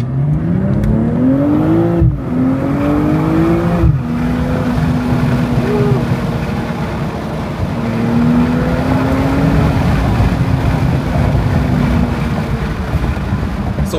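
BMW M850i accelerating hard on a driving-course track, its engine note climbing through rising revs with brief shift breaks early on, then holding a loud, steady roar under heavy wind noise, no voices.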